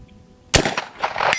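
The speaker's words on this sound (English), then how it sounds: "Shot too high, trying to outguess myself." A case-hardened Winchester 1873 lever-action rifle fires a single sharp, loud shot that rolls into a lingering outdoor echo with a second report-like tail.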